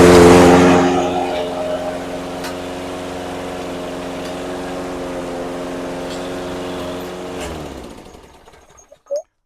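A Toro SR4 Super Recycler lawn mower engine runs steadily at close range with an even droning hum, then cuts off and winds down near the end, followed by a couple of small clicks.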